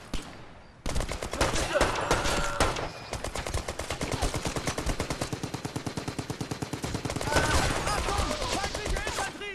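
Rapid automatic gunfire in the war video game Brothers in Arms 3 rattles on in long, steady bursts of sharp, evenly spaced shots that fill nearly the whole stretch after a brief opening.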